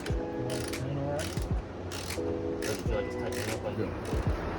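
A ratchet clicks as bolts are tightened during assembly of an outdoor backyard play set, with repeated bursts of rapid pawl clicking and brief pauses between strokes, close up and with no talk.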